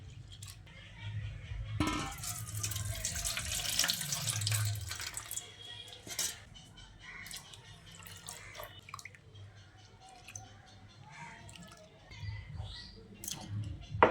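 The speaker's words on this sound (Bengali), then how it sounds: "এইভাবে একটু চেপে চেপে ডালটাকে ধুয়ে নিতে হবে।" Red lentils (masoor dal) squeezed and rinsed by hand in water, with splashing and sloshing that swells early on, then softer dripping and swishing as the washing continues.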